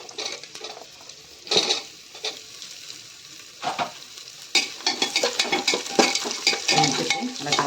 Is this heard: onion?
yes